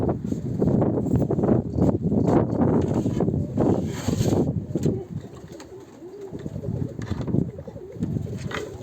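Pigeons at a coop coo repeatedly and close by, in layered, overlapping calls with soft fluttering and shuffling, the cooing thinning out toward the end.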